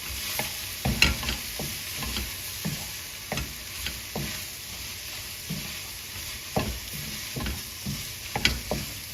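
Chicken stir fry with eggs, vegetables and pad thai noodles stirred in a hot pan, a steady sizzle broken by repeated scraping clacks of the utensil at irregular intervals, close and fairly loud with no talk.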